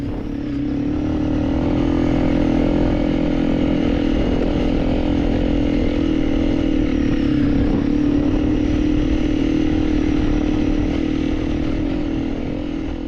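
A finished motorcycle idles steadily close by on a dusty ride, a loud constant engine drone with an even, unbroken tone throughout and no voices.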